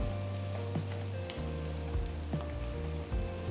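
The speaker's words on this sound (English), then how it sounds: "now add about 5 green chilies slit and continue to cook the onions" Chopped onions with slit green chilies fry in a pan, a steady close crackling sizzle with occasional light spatters and stirring bumps, continuous and moderately quiet.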